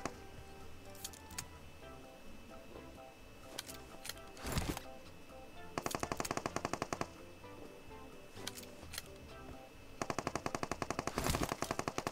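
Distant automatic gunfire crackles in PUBG in several separate bursts of rapid shots spread across the clip, with sharp single reports in between, faint and far off with no talking.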